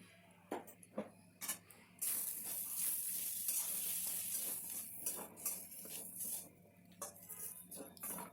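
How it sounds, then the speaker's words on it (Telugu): Coconut powder being stirred in a hot pan while a coconut curry cooks, with a steady close sizzle and scraping spoon strokes against the pan, plus a few sharp clinks at the start. "కొబ్బరి పొడి మంచిగా కలపాలండి."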